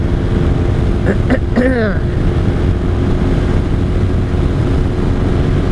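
A 1983 Honda Sabre VF750C motorcycle cruises in sixth gear, its engine a steady loud drone under heavy wind rush, with a brief rising whine early on.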